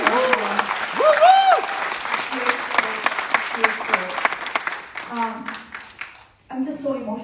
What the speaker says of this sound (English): I want you all to please give her a round of applause